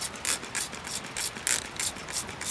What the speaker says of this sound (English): Just use a spray bottle